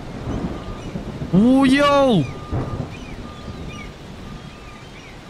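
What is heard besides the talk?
rain and thunder in video game Far From Land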